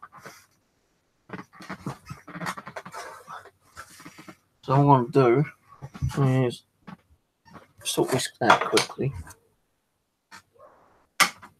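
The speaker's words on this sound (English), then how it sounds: "that's a dog outside barking" A dog barks outside in a few short harmonic bursts, mixed in among people talking quietly nearby.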